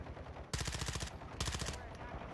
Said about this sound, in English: I'm killing these kids with my shotgun